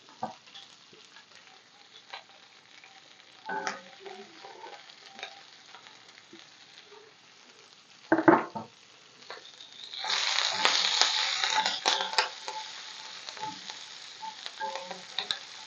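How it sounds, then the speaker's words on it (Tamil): Small and large onions with curry leaves fry in a pan, giving a faint sizzle with occasional stirring clinks, then a louder, crackling burst of frying partway through. "கொஞ்சம் கருவேப்பிலை போட்டுக்கோங்க சின்ன வெங்காயம் கொஞ்சம் பெரிய வெங்காயமும் சேர்த்துக்கிறேன் நான்"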